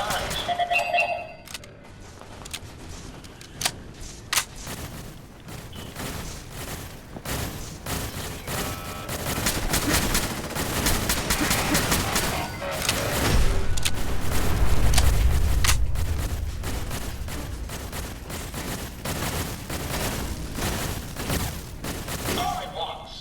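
Rapid turret gunfire in the Fallout 4 game, dense bursts of loud shots across the whole stretch with heavy booming impacts in the middle, while a voice talks over parts of it.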